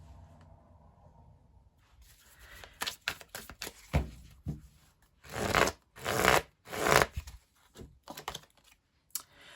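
Tarot cards are shuffled and drawn by hand: a quiet opening, then a series of crisp, riffling bursts of card noise with short pauses between them, close up.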